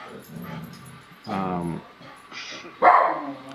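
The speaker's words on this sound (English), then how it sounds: "it's the obligatory interruption by the dogs" Several dogs bark indoors in short separate outbursts with a whimpering edge, moderately loud and spaced across the moment, with people talking in the background.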